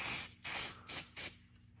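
Three short hissing bursts of smoke detector test aerosol spray, close and fairly quiet, separated by brief pauses, with a faint hum underneath and no voices.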